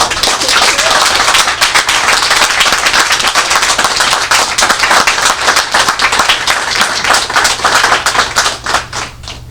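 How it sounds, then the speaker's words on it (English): Audience applause for panelists at a Pride press conference held by a state senator, steady dense clapping filling the room at close range for nearly the whole stretch, thinning slightly toward the end. "can we give a round of applause?"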